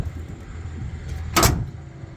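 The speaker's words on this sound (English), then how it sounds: "The doors close like brand new truck doors." The door of an older Ford F250 4x4 truck shuts with a single solid thump, close by, after a low steady rumble of background noise.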